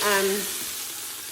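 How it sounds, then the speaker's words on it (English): A leg of lamb browns in a hot pressure cooker, giving a steady close sizzle after a brief voiced tone at the start. "And it's hot. You can hear that sizzle."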